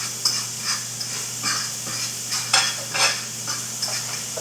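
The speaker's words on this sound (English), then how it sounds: "let me stir these onions around" Onions sizzle in a pan while a utensil stirs them in a continuous scraping motion, with soft swishes rising over a steady frying hiss. The sound is close and carries on without speech.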